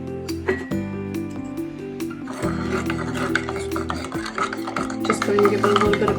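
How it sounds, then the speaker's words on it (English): A spoon stirs sugar into lukewarm milk in a bowl, making steady scraping and rubbing strokes with small clinks against the side, close and fairly loud, with no one speaking. "Just going to give it a little bit of a stir."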